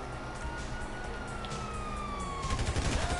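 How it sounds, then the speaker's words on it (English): A police siren in Grand Theft Auto V wails steadily in the distance, its pitch slowly sliding down, with rapid popping bursts like gunfire toward the end. "You hear that? Siren."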